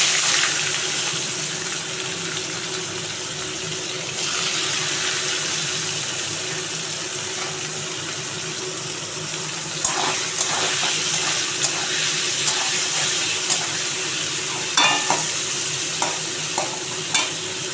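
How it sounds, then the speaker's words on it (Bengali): Onions dropped into hot oil after fried potatoes, cumin and dried red chilli, for a chicken dish, giving a loud, steady close-up sizzle with occasional stirring clinks and scrapes, no voices. "এবার পেঁয়াজ ছেড়ে দিচ্ছি।"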